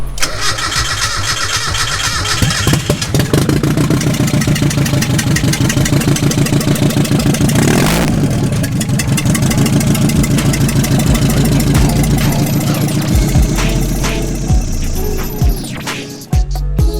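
A Mazda Miata, rebuilt after a wreck, cranks and fires up, then settles into a loud, steady, rough idle heard close up for the rest of the stretch, with no talking.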